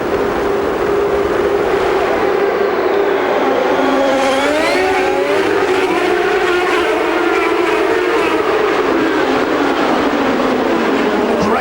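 Champ Car race cars scream away from the start of a street race in Toronto, a loud, continuous multi-engine roar with rising and falling pitch sweeps as the field accelerates together.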